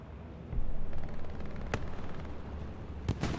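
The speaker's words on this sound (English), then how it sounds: "That shot just reflected right off the tank and went sky high." Gunfire and tank shots ring out in an Omaha Beach private match of a war video game, with a rolling battle din, a few sharp cracks and a pair of heavy blasts near the end.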